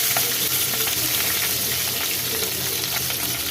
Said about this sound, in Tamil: இப்போ இது எல்லாத்தையும் நம்ம எண்ணெயில் ஃப்ரை பண்ணிக்கலாம்